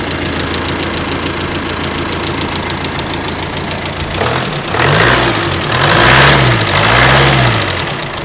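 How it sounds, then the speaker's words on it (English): A Volkswagen Amarok engine runs after being jump started from a dead battery with a Uniden UPP1000 jump starter. It idles steadily at first, then revs up in several loud rising and falling swells. "It brought this dead battery to life and got this Amarok rolling."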